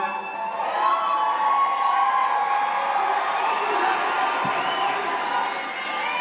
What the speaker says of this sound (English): What an amazing crowd all of you are